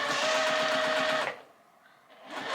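A sewing machine stitches a quilt piecing seam, a close steady whir of fast regular needle strokes for about a second and a half, a brief pause, then the motor starting up again.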